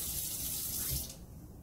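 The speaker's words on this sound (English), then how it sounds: "fills the sink with enough water to cover the bottom of the sink" Tap water runs into a sink at a dental hygiene station, a loud close hissing gush that drops off sharply near the end as the flow stops.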